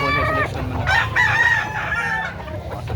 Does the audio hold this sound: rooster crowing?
yes